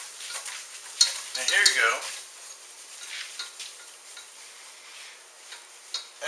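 A roux cooks in a pan while being stirred briskly, giving a soft steady sizzle with scraping strokes and a brief louder bubbling burst; a person speaks briefly over it.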